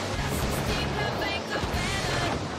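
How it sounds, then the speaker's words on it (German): A huge water wave attack from a water boss in Paper Mario The Origami King, a dense continuous rushing and crashing roar that fills the whole clip at steady loudness. "diese Welle war gigantisch und es war ganz bestimmt nicht die letzte"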